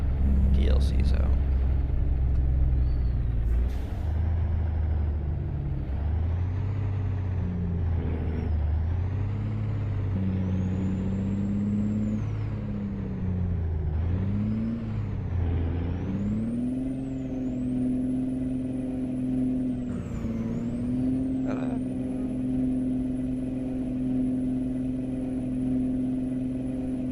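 A truck engine in a modded trucking simulator labours and changes pitch as it downshifts, a steady low drone rising and falling over the whole stretch.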